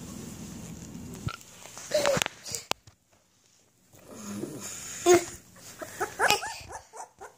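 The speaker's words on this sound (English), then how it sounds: "Little puppy." A small puppy makes soft high whimpers and sniffing snuffles up close, in uneven bursts broken by a short quiet gap, with rustling handling noise around them.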